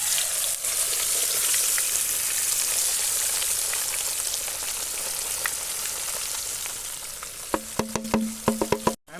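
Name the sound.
kingfish (vaala meen) frying in hot oil in a pan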